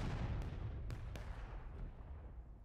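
An artillery cannon in War of Rights, on the Dunker Church map, fires in a booming burst. Several sharp cracks follow in quick succession, and a low rumble rolls on afterward, all heard at a distance.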